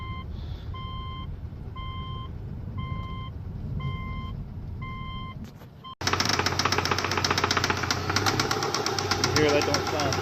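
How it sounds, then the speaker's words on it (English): A 2006 Subaru Legacy with a 2.5 liter engine and automatic transmission knocks at idle, heard as a steady, loud mechanical running sound up close. It is joined partway by a louder, denser burst of noise, with a repeating beep early on. "You can hear it. It's knocking pretty good."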